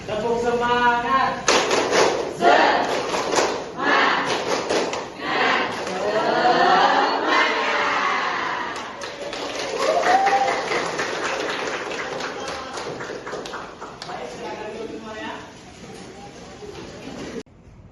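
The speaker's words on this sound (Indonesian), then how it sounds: "Tepuk semangat, mari kita mulai." A primary school class performs the tepuk semangat clapping chant, with many children's voices chanting loudly together over steady rhythmic hand claps for an extended stretch in a classroom.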